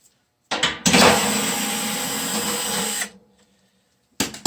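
A power drill spins for about two and a half seconds while backing out a screw from a furnace blower, loud and close, with short clicks of the tool just before and after.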